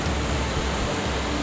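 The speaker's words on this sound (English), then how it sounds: "Welcome to Kiwi River, or Kiwi Stream." A shallow, rocky backcountry stream on a Kaweka–Kaimanawa traverse rushes steadily over rocks, producing a close, loud, unbroken broadband wash with no voices.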